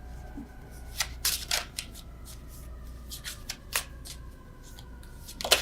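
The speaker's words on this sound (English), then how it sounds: "Terrible shuffling with you guys." A tarot card deck being shuffled by hand, with crisp riffling bursts and soft card slaps at irregular intervals, close and fairly quiet.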